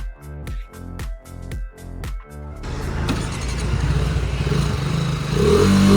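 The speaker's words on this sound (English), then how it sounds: "Let's rev this beauty and see how hungry it really is for the concrete arena" A TVS Apache RR310 Limited Edition motorcycle fires through several sharp rhythmic blips near the microphone, then settles into a louder, sustained rumbling roar as it rides off.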